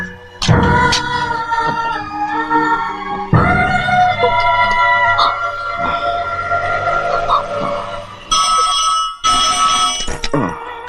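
A telephone rings indoors in a dramatic film scene, its repeated electronic bell bursts loud and close over a steady background, with a brief gap before ringing resumes.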